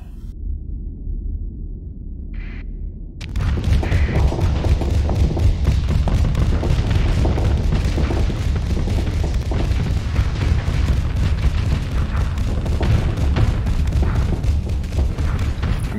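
Strike explosions in the space combat game StarSector build into a dense, continuous barrage of deep booms and crackling blasts after a brief quieter start with a faint tone.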